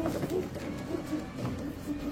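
Several soft, low coos from a female pigeon repeat in a loose rhythm, close by, over a light murmur of background noise.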